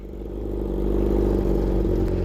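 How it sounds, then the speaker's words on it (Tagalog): A 2017-18 Kawasaki Z1000 R motorcycle idles loudly and close by as its engine warms up, a steady deep rumble that swells slightly and then holds. "Yan, papainit tayo ng makina."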